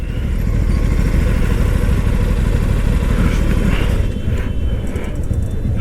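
A motorcycle cruising steadily at about 120 km/h in fourth gear, giving a loud continuous engine drone mixed with heavy wind rush, with no gear changes heard.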